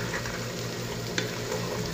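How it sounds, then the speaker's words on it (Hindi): Okra (bhindi) frying in oil for an aloo bhindi dish, giving a steady, continuous sizzle with a faint bubbling hiss close by. A single small clink is heard partway through. "ये आप देख सकते हैं मैंने सारी भिंडी ऑयल में डाल दी है।"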